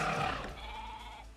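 A goat bleats in the Minecraft Jurassicraft mod, a single short wavering cry over a low background rumble.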